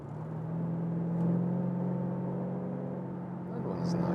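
Steady engine drone from a Lexus RC F with a 5.0-litre V8, holding a fairly even pitch with slight swells as it pulls, heard from inside the car with no voices.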